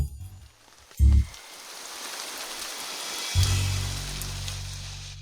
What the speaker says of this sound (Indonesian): hujan deras sekali.